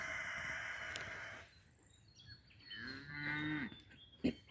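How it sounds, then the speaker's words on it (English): Cows in a neighbouring field give a couple of drawn-out moos at moderate distance, following a fading hiss and ending with a short sharp knock. "And the cows next door are going, what's going on?"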